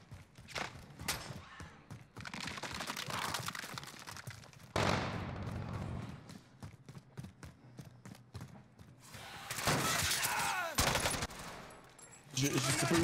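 Gunfire in the battle royale game Warzone: repeated bursts of automatic fire and single shots, some close and loud, others more distant, with players talking over the action at times.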